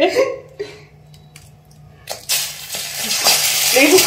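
An egg drops into hot oil in a pan and bursts into a loud, hissing sizzle that builds and stays strong, preceded by a few quiet clinks and scrapes, with a voice briefly heard at the start.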